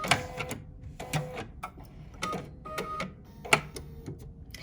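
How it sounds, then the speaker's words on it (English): A sewing machine runs its automatic thread cutter while a pattern weight is being stitched. Short mechanical clicks and whirs come in several bursts, close and fairly quiet. "Now I can go ahead and press the thread cutter."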